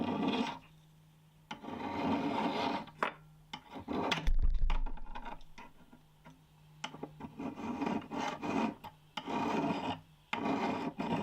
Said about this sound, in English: I can file up to the jaws of the vise to give me a nice square end